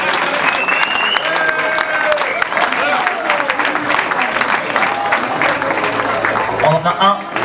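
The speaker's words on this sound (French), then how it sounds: "On peut les applaudir." An audience applauds players as they are called up beside their coach, with steady crowd clapping running throughout and a voice speaking over it.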